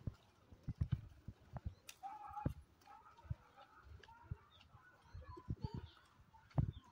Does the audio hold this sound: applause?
no